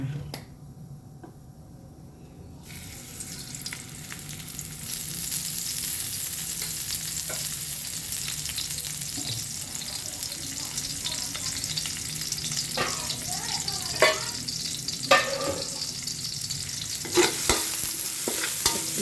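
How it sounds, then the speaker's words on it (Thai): Pork stir-fried in oil for Thai pad cha, a continuous loud sizzle with the spatula scraping and tapping against the pan, growing busier toward the end, and a voice briefly heard near the start. "วันนี้ย่าจะมาผัดชา เนี่ย มาน้ำมันก่อน ผัดชา มีหมูอยู่หน่อยนึงก็เลย จะผัดชา"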